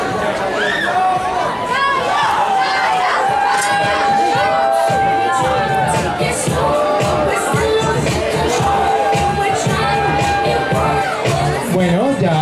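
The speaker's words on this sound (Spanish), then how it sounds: "lo que vamos a hacer por método de aplausos es escoger una representante" A large crowd at an LGBTI pride march in Manizales, Colombia, cheers and shouts with dense, continuous babble and excited voices, loud and sustained throughout, with chatter mixed in.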